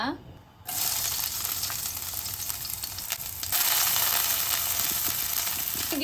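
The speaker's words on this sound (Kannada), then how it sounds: "ಇದಕ್ಕೆ ಹಸಿಮೆಣಸಿನ್ಕಾಯಿ ಮತ್ತು ಬೆಳ್ಳುಳ್ಳಿ ಹಾಕ್ಬೇಕೀಗ" Green chilies and garlic fry in hot oil, a steady, close sizzle that grows louder about halfway through.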